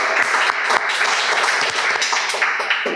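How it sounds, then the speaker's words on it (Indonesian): Brief burst of audience applause for a barber guest on a talk show, steady clapping lasting about three seconds without pause. "Sekali lagi kita kasih tepuk tangan untuk Lexat"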